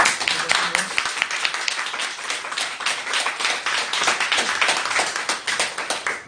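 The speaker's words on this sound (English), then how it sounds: "can I have a round of applause, please, for the local?" Audience applause at a BSFA interview event, a steady round of clapping from a modest crowd with individual claps audible, lasting about six seconds without talk.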